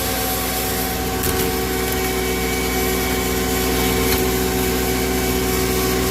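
A tractor engine runs loaded on a dynamometer, a loud, steady droning hum with a constant low pulse and no voices.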